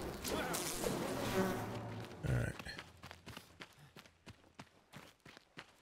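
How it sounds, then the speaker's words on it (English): Bees buzz in the Enshrouded video game, a soft insect drone running under footsteps and other game noise, with a voice talking over it. "Oh, we got bees."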